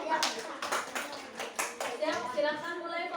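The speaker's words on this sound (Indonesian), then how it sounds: "Kita beri tepuk tangan dulu buat kelompok" Students in an Islamic school classroom applaud a discussion group, giving a short burst of brisk, uneven hand claps near the recorder while children's voices chatter over it.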